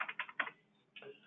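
Brief bursts of typing on a computer keyboard, a quick run of key clicks, a pause, then a few more keystrokes, close and fairly quiet.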